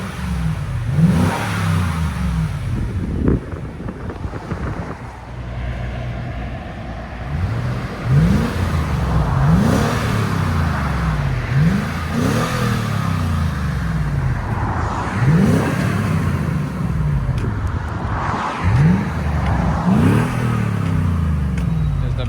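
A deep 4.6-litre V8 in a 2021 Lexus GX 460 with a Flowmaster Flow FX exhaust revs repeatedly, climbing and falling with a throaty exhaust rumble, while voices talk nearby between the revs.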